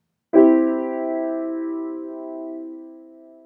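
A three-note triad rooted on middle C rings out as a single sustained chord, likely on piano, struck once and decaying slowly, heard alone with no talking.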